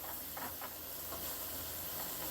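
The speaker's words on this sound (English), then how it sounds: "So I'm just going to cover and let it steam." Kale steaming in a covered pot gives a steady, quiet hiss that holds through the whole moment, with a few faint soft bubbling pops and no voices.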